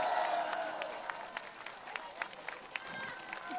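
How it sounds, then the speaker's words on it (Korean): Scattered applause from an outdoor political rally crowd in Cheongpyeong, South Korea, welcoming a party leader, with uneven claps and light crowd noise fading in the middle. "여러분 큰 박수로 한번 맞이해 주시면 감사하겠습니다"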